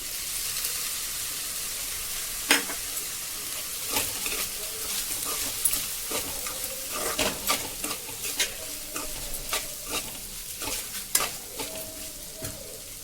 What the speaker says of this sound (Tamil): இப்போ சாதம் கொஞ்சம் ஃப்ரை ஆனோடனே இதை போட்டு கலக்கும்